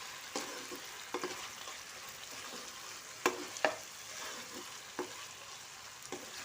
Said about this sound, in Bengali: তারপর ভালোভাবে মিশিয়ে নিলাম।